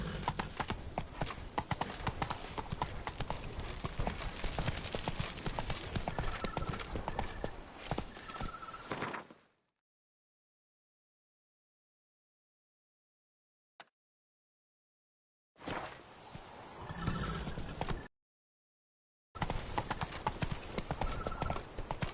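Horse hoofbeats from The Witcher 3 video game: a loud, rapid clip-clop gallop that cuts out into silence, then returns in two short bursts.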